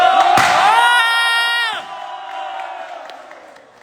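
A crowd at a live event whoops and cheers loudly as a guest is invited on stage, with a sustained shouted roar that cuts off and leaves fainter crowd noise.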